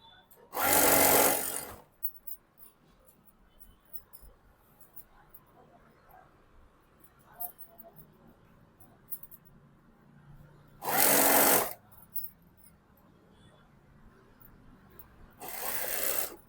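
Sewing machine stitching an Anarkali dress in three separate short bursts of loud, close whirring, with quiet handling sounds and speech in the gaps between runs.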